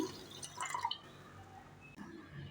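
Water is poured into a pot of sugar to make syrup for a shahi tukda bread dessert, giving close, soft splashing and dripping that briefly swells and then trickles on quietly.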